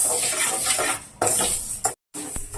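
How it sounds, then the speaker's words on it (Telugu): Moong dal dry-roasts in a pan while a spoon stirs it, giving a close, steady scraping rasp with metallic clinks. The sound cuts out briefly near the end, then resumes. "మనం పెసరకట్టుని ఫస్ట్ వేపుకుందాము."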